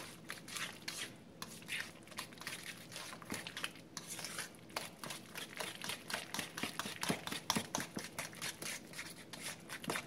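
An egg being mixed into cheesecake batter in a bowl, with steady, rapid clinking and scraping of utensil against the bowl throughout, busy and fairly close.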